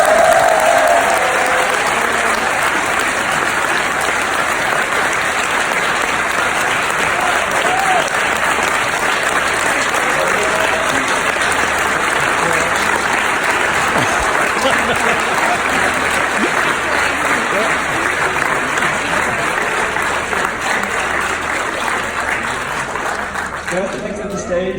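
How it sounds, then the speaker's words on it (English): A large crowd at a public hearing on a proposed quarry gives long, loud, sustained applause, with cheering and voices mixed into the dense clapping throughout. "let's have one more round of applause for Charles Grafton"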